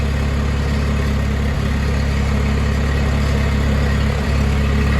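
An old vintage machine engine runs steadily at a machinery rally, a loud, close, continuous low rumble with an even throb and no talk over it.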